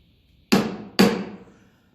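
Two sharp metallic hammer taps about half a second apart, each ringing briefly, as a part is knocked through while loosening a nut on a Massey Ferguson 35 tractor; close and clear, no talk.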